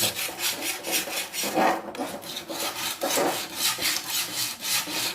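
Wood for a swing is rubbed and smoothed by hand with rhythmic, scraping strokes at close range, a steady back-and-forth rasp repeating about every half second with a brief pause partway.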